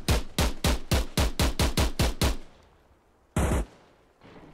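Rapid automatic gunfire in a Vietnam war video game: about ten loud, evenly spaced shots in a steady burst, then quiet, a brief harsh blast, and a fainter rumble at the end.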